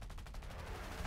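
Rapid machine-gun fire from a PB4Y-2 Privateer in a flight game, a fast even rattle of shots lasting about a second, fairly quiet and continuous.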